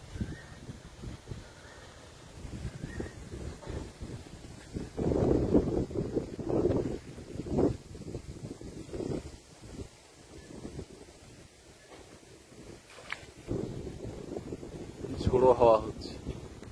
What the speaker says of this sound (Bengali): ঝোড়ো হাওয়া হচ্ছে